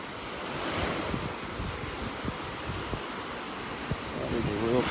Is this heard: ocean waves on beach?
yes